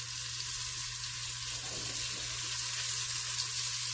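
Beef browning in a pan for a pot pie gives a steady, even sizzle with no speech, holding at a moderate level with a low constant hum beneath it.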